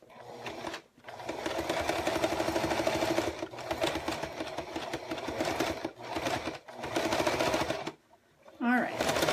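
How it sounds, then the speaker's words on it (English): A sewing machine stitches over a line during paper piecing of a snowman block, running in long rapid bursts broken by short pauses, close and fairly loud. "I'm just gonna leave that in and sew over the line again."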